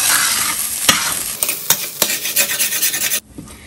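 A spatula scrapes and stirs little-millet fried rice in a hot pan. It makes a row of quick rasping strokes over a soft sizzle, then stops abruptly near the end.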